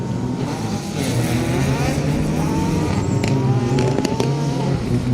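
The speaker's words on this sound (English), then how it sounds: "Awesome sounding Peugeot." A Peugeot rally car with a 1.6-litre three-cylinder engine races through a circuit rally stage at Snetterton, its loud, raspy engine note rising and falling through gear changes, with sharp crackles toward the end.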